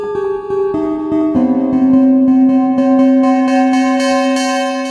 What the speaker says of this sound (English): like we were hitting it with a felt beater